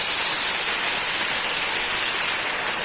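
A Konkan waterfall during the monsoon rain gives a constant loud rushing hiss of falling water, steady and even from start to finish, with no voices.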